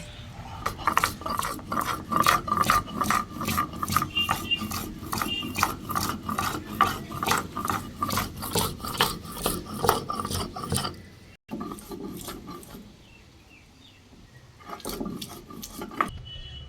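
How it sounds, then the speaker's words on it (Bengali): Green chillies, tomato and ginger are ground together by hand, probably on a grinding stone, making a loud, rhythmic back-and-forth rasping in quick regular strokes, close up, before it breaks off and resumes more softly, with no voices. "এখানে নিয়েছি 3টে কাঁচা লঙ্কা, একটা টমেটো কুচি আর কিছুটা আদা। এগুলো সব একসঙ্গে বেটে নেব।"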